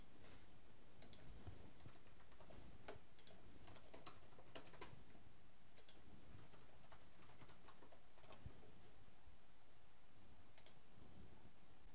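Steady typing on a computer keyboard, with quick irregular key clicks running throughout at close range while someone enters basic teacher registration details into a school maths website.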